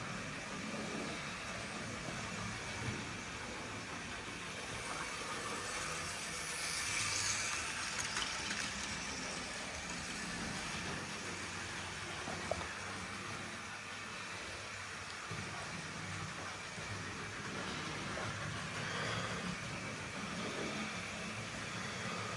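A Bachmann USA 0-6-0 model steam locomotive runs laps around a track, giving a steady low mechanical whirr and rolling rumble that swells slightly as it passes nearer, with no one talking.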